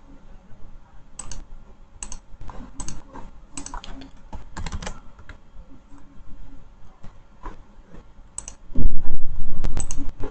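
Computer mouse clicks, sharp and close, sound at irregular intervals while operating CG100 airbag repair software on a Land Rover module, then a louder, denser burst of noise near the end.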